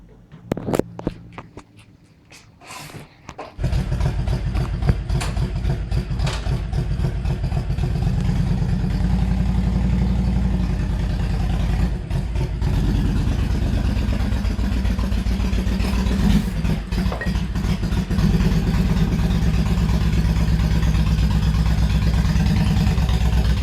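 A Honda VTX 1300R motorcycle engine starts after a few seconds of clattering handling noise, then idles steadily with a loud, even low rumble that continues to the end.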